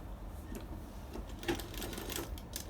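A sewing machine runs a light line of stitching to attach piping onto fabric, giving a faint, close, rattling whir in short uneven bursts.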